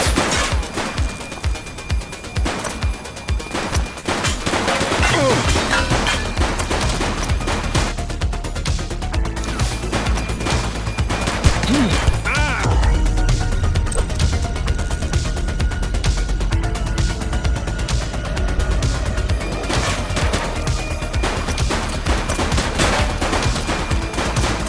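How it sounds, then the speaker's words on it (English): Bursts of automatic and single-shot gunfire from The Precinct video game crackle repeatedly and loudly, rapid volleys packed densely over a continuous backdrop of noise, with sharp impact crashes scattered among the shots. "Shots fired!"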